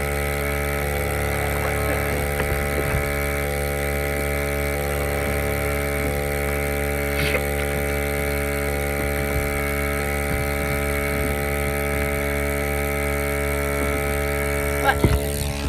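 A Smautop single-bucket milking machine runs with a steady, loud mechanical hum and pump drone throughout, with faint clicks and a brief knock near the end; no one speaks.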